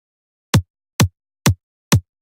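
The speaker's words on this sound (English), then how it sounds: "So there's a high-end kick, which sounds like this." Four evenly spaced electronic kick drum hits, a bright high-end layer of a layered kick tuned for a mix, each a short sharp thump with a clicky top, played alone about half a second apart.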